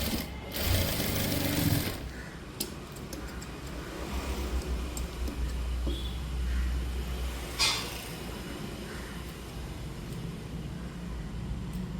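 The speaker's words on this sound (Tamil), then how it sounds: "இப்படி நம்ம தச்சுக்கிட்டே வந்துடலாம்." A sewing machine stitches a blouse in a steady, continuous run, with a louder burst near the start before settling into an even mechanical hum with occasional clicks, close and alone without talk.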